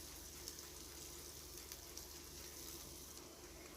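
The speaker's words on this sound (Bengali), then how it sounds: "পেঁয়াজ এবং রসুনটা একসাথে ভেজে যখন পেঁয়াজটা একটু নরম নরম হয়ে আসবে" Onion and garlic frying together in a pan, a faint, steady crackling sizzle running evenly throughout with no talk.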